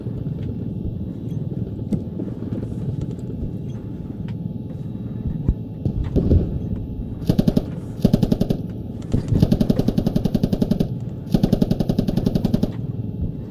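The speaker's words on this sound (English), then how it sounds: "They're shooting the APC, not us." Automatic gunfire in the Squad military shooter, with bursts of machine-gun fire around an APC under an RPG attack; rapid rattling volleys repeat from about seven seconds on over a steady low rumble of vehicle hum.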